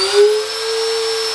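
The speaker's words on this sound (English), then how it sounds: "I'm going to go ahead and click on here to turn the spindle on" A Sainsmart Genmitsu PROVer XL CNC router spindle spins up to a steady, loud high-pitched whine that holds level after a brief swell at the start, with no talk.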